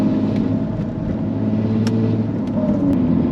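A Jaguar F-Type convertible with a manual gearbox hums along at a steady, low rumbling drone during a gear change, loud and continuous inside the cabin without talk.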